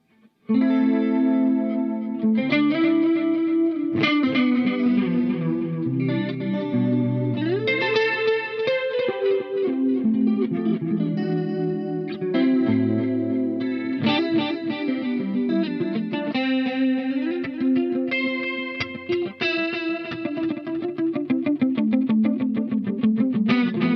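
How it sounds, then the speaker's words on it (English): Electric guitar played through the chorus effect of a Crazy Tube Circuits Sidekick Jr pedal, with some drive: shimmering, wavering strummed chords and melodic phrases played continuously and loudly, with no talking. "Let's add some chorus with that."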